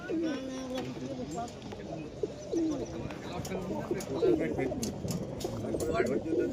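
Giribaz and foreign pigeons coo repeatedly at a busy Beldanga market, their soft warbling calls recurring close by over steady crowd murmur and voices.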